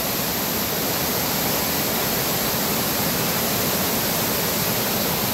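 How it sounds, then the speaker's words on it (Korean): Yongchu Falls in the rocky Juwangsan gorge of Cheongsong: a dense, steady roar of falling water that fills the whole moment without letup, loud and close. "용추 폭포."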